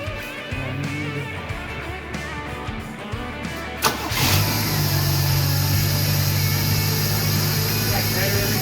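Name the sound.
1979 Chevy Nova engine started and running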